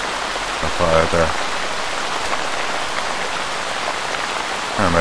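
Rain in the ArmA 3 video game on the Chernarus map, a steady, moderate hiss of falling water with brief voiced sounds rising over it near the start and end.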